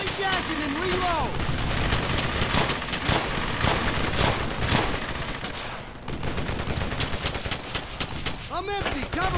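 Machine gun fire rattles dense and loud in the World War II shooter Brothers In Arms: Hell's Highway, with continuous bursts and rifle shots and voices shouting amid the firefight.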